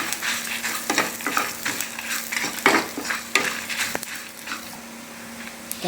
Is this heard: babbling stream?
no